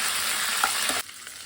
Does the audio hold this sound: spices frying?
yes